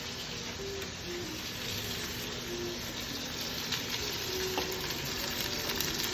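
Meat sears in hot oil in a pan for a Filipino adobo, a steady broadband sizzle holding at an even level throughout.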